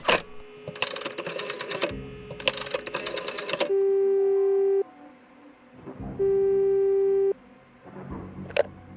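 A phone rings twice in the Frequency Missing video game, each ring a long steady electronic tone lasting about a second, loud and clear after clattering typing-like game sounds.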